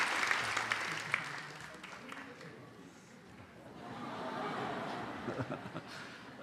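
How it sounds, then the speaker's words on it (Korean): Church congregation applauding during a Sunday worship service to bless a child after a prayer; a moderate, steady patter of many hands swells and fades, with some voices mixed in. "우리 박수로 이 아이를 축복합니다"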